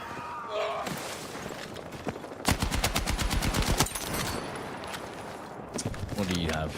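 A rapid burst of automatic gunfire in Battlefield 6, loud and close, fires for about a second amid game noise, with a person talking before and after the shots.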